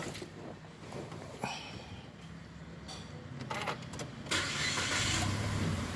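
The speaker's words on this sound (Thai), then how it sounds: "ทีนี้เราไปลองติดเครื่องกันดูสตาร์ทเครื่องดู" A car engine cranks and catches after grease is applied to its dry, squealing drive belt, settling into a steady close idle with no belt squeal, following some faint handling clatter.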